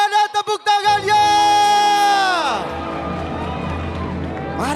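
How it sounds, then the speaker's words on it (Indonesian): An arena crowd at an MPL Indonesia Mobile Legends esports match swells into loud, sustained cheering and applause, first under an announcer's long drawn-out shout, then filling the hall on its own. "MPL Arena, mana tepuk tangannya?"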